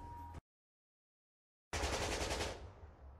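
A burst of rapid gunfire from an animated spoof erupts loud and close after a moment of silence, a dense rattle that fades into a decaying tail.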